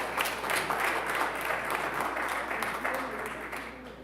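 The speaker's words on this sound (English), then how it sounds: "Clap for him," A church congregation applauds its guest organist at an Anglican service, a steady wash of many hands clapping throughout that slowly fades toward the end.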